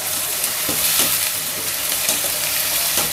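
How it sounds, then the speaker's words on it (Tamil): Mixer-pounded onions with fennel seeds fry in oil for a mutton kola urundai kulambu, making a loud, continuous sizzle broken by repeated soft stirring scrapes. "வெங்காயம் நல்லா வதங்கட்டும்."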